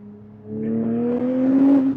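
A Porsche 997 GT3 engine revs up with a rising, throaty tone that climbs steadily over two seconds, close and loud, with no talking.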